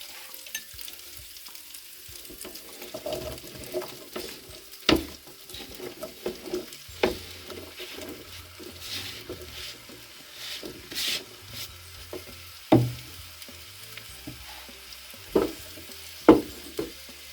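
Capsicum frying in a pan for a spicy chili dish, with a soft continuous sizzle broken by irregular scraping stirs and sharp knocks of the spoon against the pan, close and without speech.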